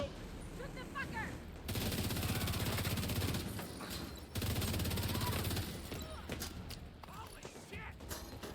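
Gunfire in the video game The Division 2, sustained loud automatic bursts with a few short breaks, with voices heard over the shooting.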